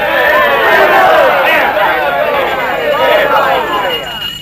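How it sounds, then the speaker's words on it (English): Townspeople in a Western film cheering together for a man named Gold, a loud, excited mass of voices shouting and hollering close by before tapering off at the end. "Let's have a cheer for gold."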